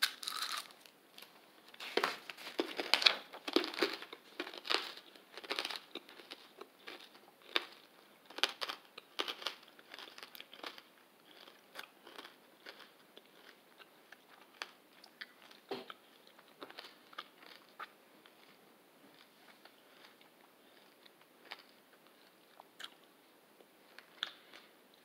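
Close, quiet crinkling of a wrapper is followed by crunching and chewing of a lime hard candy with a chocolate filling, irregular small bites and mouth sounds fading to softer chewing, without speech.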